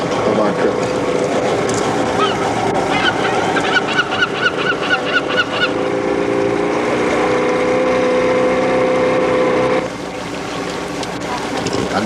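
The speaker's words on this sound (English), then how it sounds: "One of the many kelp gulls seen during the course of our trip." Kelp gulls call repeatedly on an Antarctic trip, giving rhythmic honking cries in a run of short, evenly spaced notes. They sound over steady wind and engine rumble from a boat, with a long tonal drone partway through.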